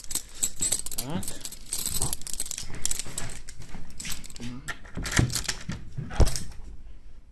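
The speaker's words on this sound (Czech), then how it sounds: "Jo, tady mám klíče." A bunch of keys jangles and clinks in short, close bursts, with people talking over and between the metallic rattles.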